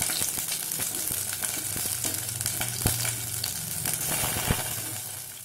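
Small onions with fenugreek and cumin seeds sizzling in hot oil as the tempering for a Tamil keerai sambar: a steady, close frying hiss with occasional crackles and stirring clicks.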